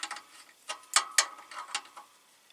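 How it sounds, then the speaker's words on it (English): Metal studs are removed from a truck during an Eaton Solo clutch replacement, giving faint, close ratcheting clicks and clinks in short irregular bursts over near silence. "Remove these studs."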